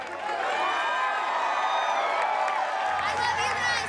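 An American Ninja Warrior crowd at the 2014 Dallas Finals cheers for Kacy Catanzaro, a sustained roar of shouts and whoops with some clapping, mixed with voices and fairly loud throughout.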